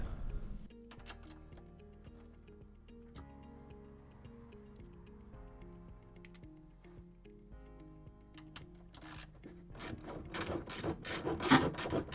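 Bolts holding the motor of a Whirlpool WTW5057LW top-load washer are loosened with a ratcheting tool, giving close, irregular clicks and metallic taps that build into a faster, louder burst of ratcheting near the end.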